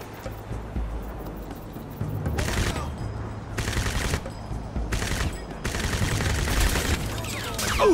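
Automatic gunfire in the video game Crysis Warhead: repeated loud, rapid bursts of shots separated by short gaps, with a low rumbling game background and a voice talking between bursts.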